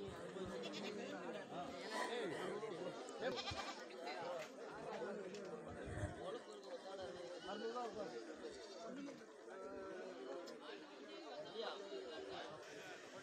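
Goats bleat repeatedly at a busy livestock market in Kerala, with overlapping calls, some near and some farther off, under constant crowd chatter and voices.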